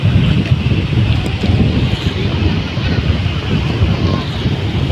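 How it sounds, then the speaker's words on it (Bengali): Big ocean waves break at a beach at Bakkhali, a steady loud roar of surf with heavy wind buffeting the microphone throughout, no clear voices. "কি বড় বড় ঢেউ"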